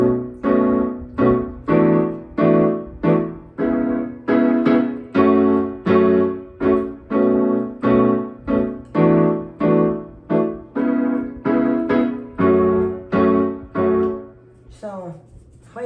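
Solo piano plays the instrumental middle section of a song: evenly spaced, sustained chords repeat in a steady rhythm, close and clear, then fade out near the end.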